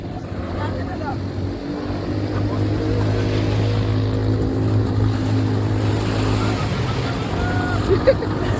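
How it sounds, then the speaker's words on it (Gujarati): A speedboat engine drones steadily and loudly up close at Shivrajpur Beach near Dwarka, Gujarat, a constant low roar with rushing water noise, holding even throughout. "આપણે સ્પીડ બોટ ની અત્યારે રાઈડ લેવા જઈએ છીએ"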